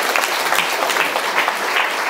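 Audience applause in a chapel, dense and steady clapping from a crowd for about two seconds, fairly close and even in loudness with no voices over it.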